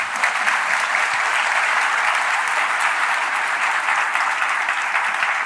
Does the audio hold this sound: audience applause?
yes